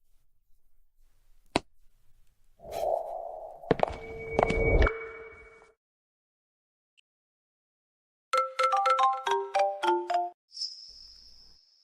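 A phone ringtone plays a quick run of bright electronic notes in a repeating melodic pattern for about two seconds, loud and close, after earlier thuds and a whoosh in a dramatic scene.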